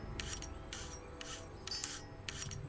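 Gem cutting during crafting in World of Warcraft, heard as four evenly spaced, faint rasping grind strokes over a low background hum.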